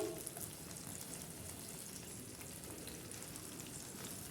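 Tomatoes for tomato chutney cook in a pan on a gas stove, giving off a soft, steady sizzle and faint crackle that stays quiet and even throughout, with no voices.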